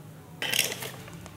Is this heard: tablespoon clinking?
yes